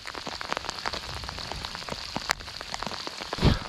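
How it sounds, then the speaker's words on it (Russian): Steady rain patters on water and nearby surfaces during a fishing outing in a thunderstorm, with dense irregular drops and a few louder close hits, and no voices. "А дождики не думают заканчиваться."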